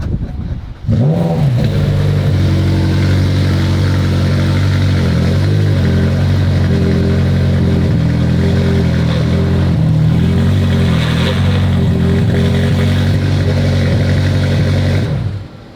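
A McLaren 720S GTR race car with a broken transmission starts up and drives, its engine roaring loud and close with a steady, strained drone and wavering pitch for most of the stretch before cutting off near the end.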